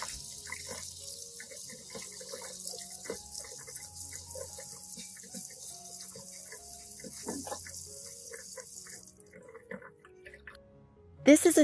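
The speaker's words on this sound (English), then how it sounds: "rinse the vegetables under clean running water." Vegetables rinsed under a running kitchen tap: a steady hiss of flowing water with small clinks and splashes as they are handled, the stream cutting off shortly before the end.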